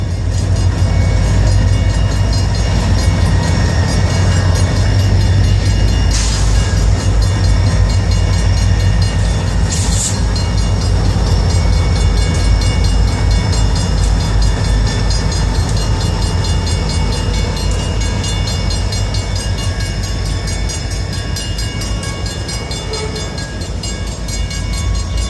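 A train passes very close and very loud, with a continuous roar and rumble of rail cars that lasts throughout and brief sharp squeals along the way.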